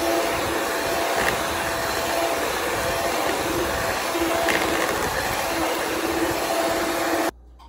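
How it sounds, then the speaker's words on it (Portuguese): An electric stand mixer whirs steadily while beating banana cake batter made with four bananas, giving a continuous loud motor drone that runs almost the whole time and then cuts off abruptly near the end. "Acabei de misturar aqui na batedeira mesmo, né?"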